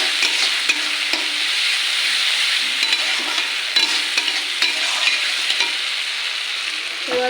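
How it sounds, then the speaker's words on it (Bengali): Ginger garlic paste frying in a pan for prawn curry, stirred steadily: a bright, continuous sizzle with soft repeated scraping strokes of the spatula, close and even throughout. "এবার একটু ভালো করে গন্ধটা চলে যাক নেড়ে ছেড়ে নেবো"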